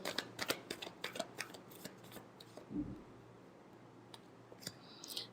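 Tarot cards shuffled by hand during a reading, a quick run of soft riffling clicks close up at the start, then quieter scattered taps and rustles, faint and with no talking.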